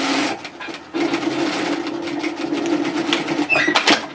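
A sewing machine runs in a fast, steady mechanical whir, close by, pausing briefly near the start before continuing to stitch a dress hem.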